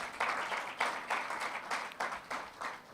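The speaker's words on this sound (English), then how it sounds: "Let's give them a round of applause." Audience applause at a STEM festival launch event welcoming guests to the high table, moderately loud, steady clapping with uneven swells across three seconds, no voices over it.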